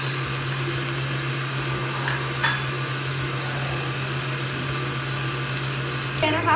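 An electric stand mixer beats eggs into creamed butter and sugar for banana bread, a loud steady motor whir that holds evenly before shifting near the end.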